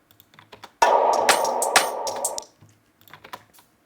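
Hi-hat pattern run through the Supercharger compression and distortion plugin, a bright, gritty, compressed burst of ticking hits lasting under two seconds, with quieter isolated ticks before and after.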